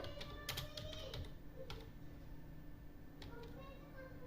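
Fingers tap out an address on a computer keyboard in MS Word, with irregular clusters of close, sharp key clicks and a pause in the middle, while someone talks over them.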